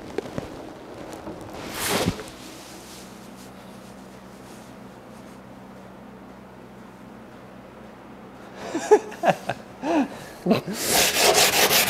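Rubbing and sanding of body filler on a C4 Corvette widebody build, with a sharp scrape near the start, a quieter stretch, then bursts of rough strokes toward the end, close and moderately loud.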